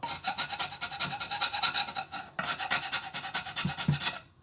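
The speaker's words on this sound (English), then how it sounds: "I'll sand it all down and then we'll have a look at it and reassess what we're going to do." Sandpaper rasping back and forth over the wooden feet of an old Wien H radio during restoration, a steady close scratchy rubbing in repeated strokes with a brief pause midway, no talk.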